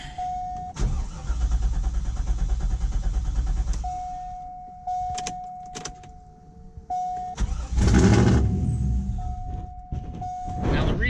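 A car engine cranks with a fast whirring starter that runs for several seconds, then catches and rumbles to life up close; a steady high electronic tone sounds between attempts, and a second crank and start follows.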